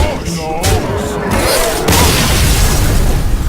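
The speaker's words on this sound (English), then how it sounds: "better finally play that Arcane Explosion that I so desperately wanted all game" Arcane Explosion spell cast in the Hearthstone card game, a loud booming burst with crackling pops followed by a sustained rumbling blast, with someone talking over it.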